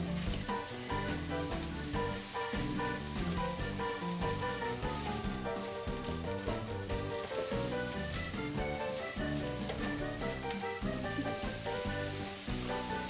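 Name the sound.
onions and green onions sizzling as they fry in a pan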